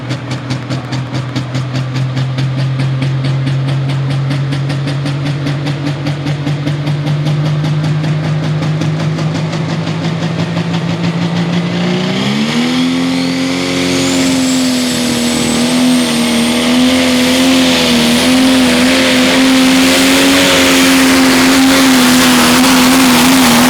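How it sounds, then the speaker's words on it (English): Pro stock pulling tractor at a county fair pull, engine droning loud and steady, then revving sharply upward about halfway through and holding a high, strained roar to the end. "Expect a lot of RPM, a lot of black smoke, a lot of tire speed"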